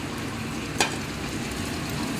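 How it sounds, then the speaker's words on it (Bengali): Potatoes frying with onion and spices in a pan for a chicken dish, a steady close sizzle with a single brief clink or stir partway through. "আলুটাও একটু ভাজা দরকার, তাই জন্য এই আলুটা দিয়ে দিলাম।"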